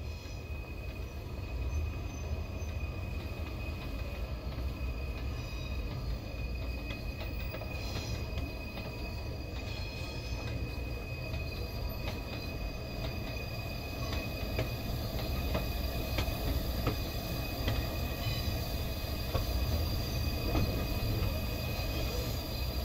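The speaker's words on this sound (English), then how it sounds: "Stand on the platform and wait for this train to arrive." A steady rumble of a freight train rolling in to a platform in the video game Train Sim World 3, with faint metallic squeals and clanks over a constant low drone, no voices.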